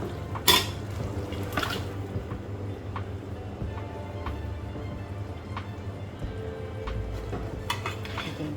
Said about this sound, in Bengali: চিকেনটা সুন্দর করে মশলার সাথে মিশিয়ে দিই